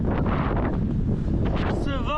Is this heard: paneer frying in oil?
no